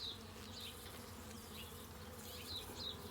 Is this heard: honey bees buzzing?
yes